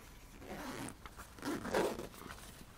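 Large zipper on the front pocket of a McKinley Polar 65 backpack, opened in a steady close rasping pull lasting a few seconds, with fabric rustle.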